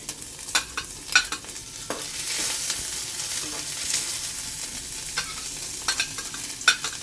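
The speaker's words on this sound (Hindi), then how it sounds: "थोड़ा सा फ्राई कर लेंगे, उसके बाद हम डाल देंगे और चीज़ें" Ginger and onion fry in hot mustard oil, giving a steady close sizzle throughout with occasional sharper crackles and spatters popping through, no voices over it.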